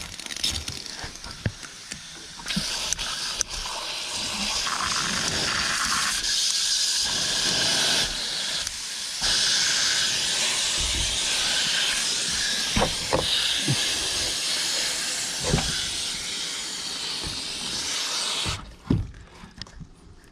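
A garden hose blasts water onto a dirty AC cooling unit, a steady, close, broadband hissing spray that runs for about sixteen seconds with a few small knocks and bumps before cutting off near the end.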